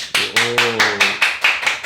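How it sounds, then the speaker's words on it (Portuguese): A single person claps steadily and rhythmically, about eight close, sharp claps, with a brief hum of voice partway through. "Uma salva de palmas pro Dr. Bones."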